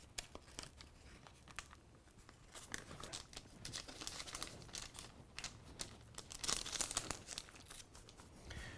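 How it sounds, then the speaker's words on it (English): Parchment paper peeled off a raw burger patty in a kitchen, faint soft crinkling and crackling rustles in irregular bursts. "Get this parchment off rather."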